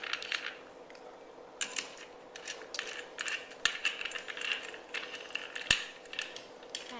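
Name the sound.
screwing nut back onto brush cutter blade flange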